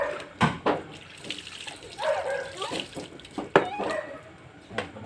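Water is poured in splashing spurts over a small puppy during an afternoon bath, with scattered splashes and dripping across the clip and quiet background voices.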